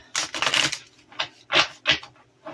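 Several short, papery riffles of tarot cards being shuffled up close, quiet bursts separated by brief pauses.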